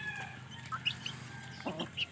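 Chickens give a few soft, scattered clucks and chirps at a distance, quiet and intermittent against a low background.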